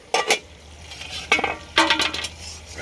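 A spoon stirs fig curry with turmeric in a pot, giving a few short scraping bursts with light clinks, separated by quiet gaps, close and fairly soft.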